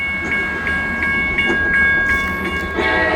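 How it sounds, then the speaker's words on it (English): A train rolls past with rhythmic clickety-clack of wheels over rail joints, a steady rumble and faint tonal squeal, no voices. "We got a train coming"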